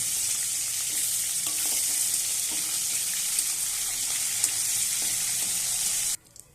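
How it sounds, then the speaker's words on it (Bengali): Rupchanda pomfret fish frying lightly in a pan, a loud steady hiss with faint scattered crackles, stopping abruptly near the end. "মাছগুলো আমি ভালো করে ভেজে নেব। অত বেশি কড়া করে ভাজবো না, একটু হালকা করে ভাজবো।"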